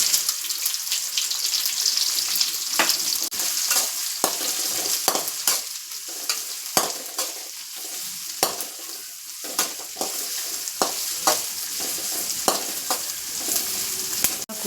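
Onions fry in hot oil with cumin seeds in a pan, a loud steady sizzle broken by frequent scraping stirs, close up, with no talking.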